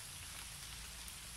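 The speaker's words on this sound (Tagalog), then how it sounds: "Ulan pa jud na guys oh." Rain falls steadily in a rural countryside setting, a soft, even, continuous hiss of drops on surfaces, faint and without talking.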